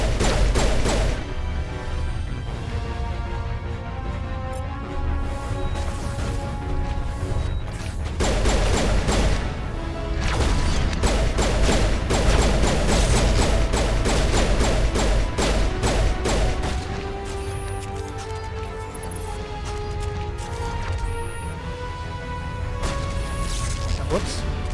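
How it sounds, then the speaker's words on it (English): Rocket fire in the Mass Effect video game, heard as dense, loud volleys of blasts, crashes and booming impacts running continuously under a busy game soundtrack, with voices talking throughout. "Did you just shoot a ton of rockets?"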